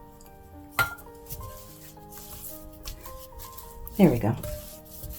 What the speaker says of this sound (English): I'm going to switch to my spatula. It's going to be much easier for creaming my butter.